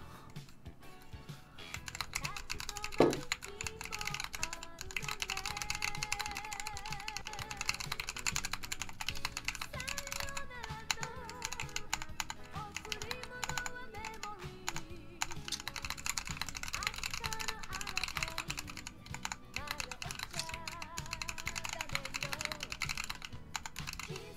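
A clacky mechanical keyboard is typed on in sustained bursts, with dense, rapid clicks and clacks and a few louder key strikes, close and prominent; no talking.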